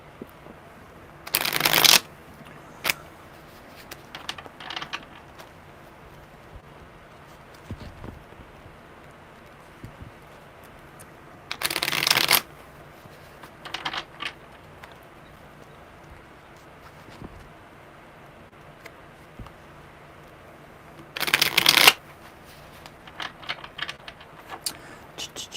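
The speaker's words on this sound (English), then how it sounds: "One more good shuffle." Tarot cards shuffled by hand in three separate bursts of rapid riffling clatter, each a second or two long, close and crisp, with lighter card taps and handling noises between them in a quiet room.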